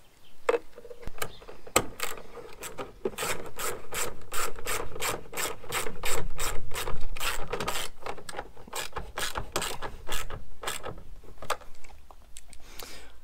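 A screwdriver turns the large mirror fixing screw on a Renault Trafic, producing a long series of quick, crisp ratcheting clicks in an uneven rhythm, close and fairly loud.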